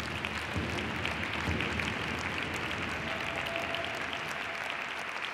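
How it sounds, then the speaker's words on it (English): A crowd at an American Indian Heritage gathering claps together in honour of someone, a dense, even wash of applause that holds steady for several seconds, fairly distant, without any voices. "let's clap our hands for Laverne."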